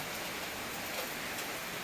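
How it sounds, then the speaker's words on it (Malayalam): Steady rain pours down, a dense even hiss with no breaks, close and moderately loud. "മഴയൊക്കെ പെയ്ത് ഇപ്പോൾ പെയ്തുകൊണ്ടിരിക്കുകയാണ് കേട്ടോ"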